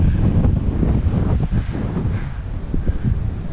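Strong wind gusting across a wooded mountain ridge on the North Fork Mountain Trail in West Virginia, a loud continuous roar buffeting the microphone with no pauses and no talking.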